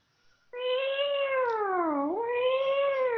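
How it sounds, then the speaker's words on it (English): A big orange cat gives one long, loud, drawn-out meow that dips in pitch midway and then rises again, heard clearly on its own. "a big orange cat, and it meows at you."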